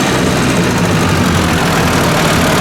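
A Ford 800 tractor engine runs loud and close with a steady rough rumble, no voices over it.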